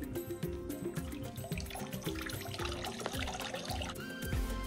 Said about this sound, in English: when you pour water into it, it's supposed to like represent rain